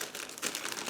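Plastic bag holding gray plastic frames from an Eduard 1/72 Spitfire Mk.VIII model kit crinkles close up, a steady rustling that swells midway and continues through the moment.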